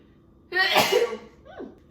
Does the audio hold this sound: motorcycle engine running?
no